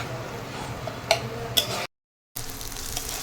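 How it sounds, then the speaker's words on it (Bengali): Onion, ginger and garlic paste fries in hot oil, giving a steady broadband sizzle with a couple of sharp clicks, and the sound cuts out briefly before resuming. "তো তেল দেওয়া হচ্ছে, এর মধ্যে পেঁয়াজ বাটা, আদা বাটা, রসুন বাটা দিয়ে দেবো। এবার এটা একটুখানি ফ্রাই হবে।"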